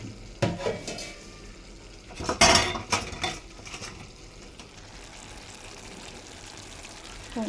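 A metal lid is lifted off a pot of simmering bean and tomato curry, giving a few clanks and a scrape, followed by soft bubbling and kitchen noise close by.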